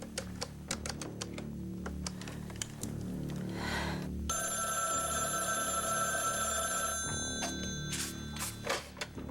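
A telephone rings during a call, its bright electronic tone sustained for a few seconds over busy typewriter-like clacking and a steady music bed, with sharp taps before and after.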